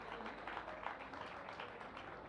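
Steady audience applause at a Sahitya Aaj Tak 2024 literary festival stage event in Delhi, dense continuous clapping filling the full length without breaks.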